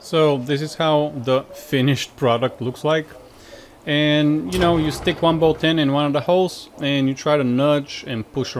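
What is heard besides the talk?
None of the usual background noises is heard.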